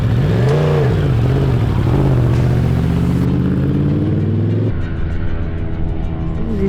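A racing motorcycle engine at a cold, damp endurance winter test revs loudly and close, climbing and falling through several throttle blips before settling into a steady, rough rumble.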